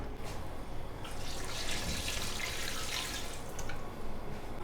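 Water splashes and trickles into a cooking pot of chicken pieces for stock, a close, steady pour that grows brighter midway and then eases off, with no talking.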